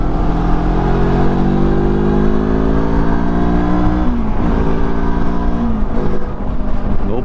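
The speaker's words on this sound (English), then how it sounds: "No problem on the KPT. It doesn't have FJR acceleration, but it's got pretty good acceleration." Loud, close engine of a Lifan KPT 400cc motorcycle accelerating while passing, with rising revs through the gears and a brief shift dip, steady wind noise underneath.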